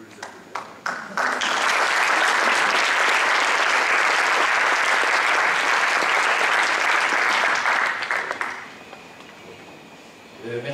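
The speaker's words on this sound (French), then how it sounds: "On peut les applaudir." A room full of people applauds loudly and steadily for several seconds, starting from scattered claps and tapering off at the end.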